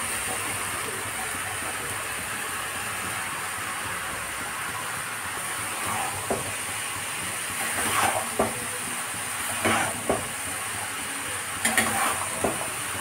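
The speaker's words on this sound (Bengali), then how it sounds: "কষানো হয়ে গেছে, এবার লাউ ঢেলে দেব। লাউ আর আলুটাকে ঢেলে দেব।" Bottle gourd and potato pieces tip into a hot pan of spiced fish curry base, setting off a steady broad sizzle with a few stirring scrapes and clatters near the end, no voices.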